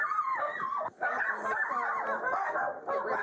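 Dogs barking and yipping continuously at a house doorway, loud and close, an excited overlapping chorus with a brief pause near the start, with faint voices underneath.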